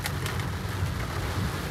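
Heavy rain drums steadily on a parked Kia Seltos diesel, a dense continuous wash of droplets with low rumbling underneath, close and constant with no voices.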